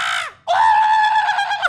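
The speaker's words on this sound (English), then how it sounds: "We're screaming!" Several characters in the Skyrim video game let out loud, sustained screams, one brief cry breaking off before a longer, piercing shriek that carries on without any speech.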